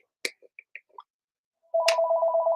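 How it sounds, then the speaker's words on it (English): A telephone rings nearby: a few faint clicks and short tones, then a loud, steady warbling electronic ring pulsing rapidly. "Oh, of course the phone's got a ring,"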